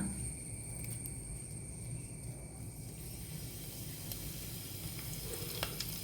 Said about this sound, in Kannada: ನಾವು ಈ ಒಂದು ಚಾಪ್ ಮಾಡಿದಂತಹ ಕರಿ ಲೀವ್ಸನ್ನು ಸ್ವಲ್ಪ ಇದಕ್ಕೆ ಹಾಕೊಳ್ಳೋಣ